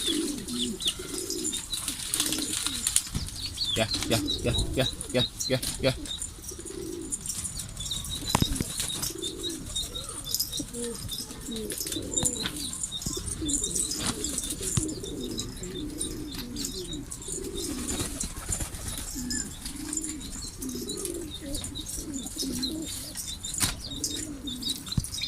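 Homing pigeons cooing in soft repeated bubbling phrases, with bursts of wing flapping throughout, close and moderately loud, while a man calls out repeatedly to the birds.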